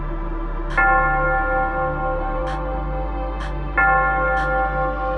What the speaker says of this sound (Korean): 갑자기 종소리가 은은히 들려오기 시작했다